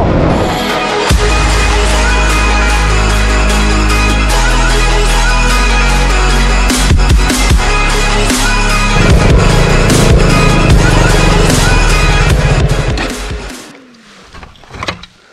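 A motorcycle climbing a steep rocky path toward a hilltop temple, its engine loud and close and straining, with sharp clattering knocks from stones before it fades near the end.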